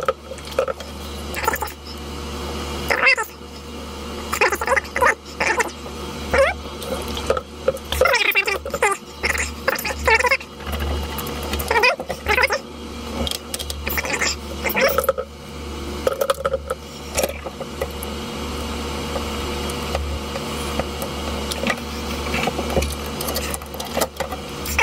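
An Intel Core i7 8700K processor being wiped clean with alcohol wipes, giving a close, uneven series of soft rubbing, squishing and dabbing sounds that run steadily with short pauses and no speech.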